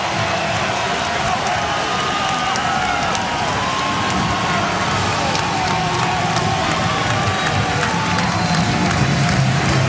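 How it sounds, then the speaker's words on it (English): A packed college basketball arena crowd roars and applauds continuously at Illinois hosting Maryland, a dense, loud wash of cheering and clapping from start to finish. "this crowd has responded, brought to their feet"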